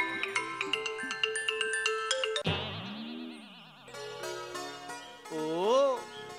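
A mobile phone ringtone plays a bright electronic melody of repeated tones, shifting into warbling, sweeping synth passages, moderately loud and close with no talking over it.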